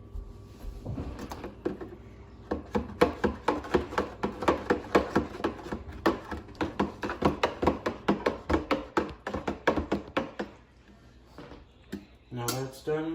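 A utensil stirs tea inside a gallon jug, producing a rapid, regular series of knocking and sloshing strokes for about ten seconds, fairly close and moderately loud, ending with a brief clatter.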